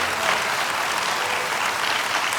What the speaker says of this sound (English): give your Pastor Travis a round of applause